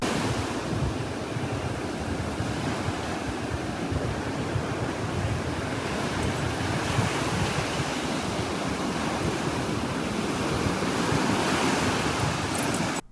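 Ocean surf rolls in steadily at a beach, a continuous loud wash of breaking waves mixed with wind buffeting the microphone, with no voices.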